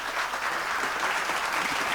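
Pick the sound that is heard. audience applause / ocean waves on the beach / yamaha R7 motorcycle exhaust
audience applause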